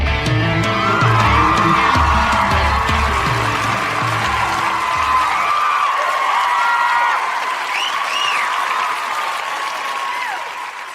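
Studio audience applause swells loud and dense from the start, clapping steadily for several seconds before thinning and tapering off toward the end, with a few faint whoops mixed in.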